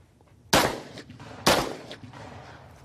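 Two sharp, loud gunshots about a second apart ring out at a 3-gun shooting competition, each with a sharp crack followed by a decaying echo, heard up close and without talk.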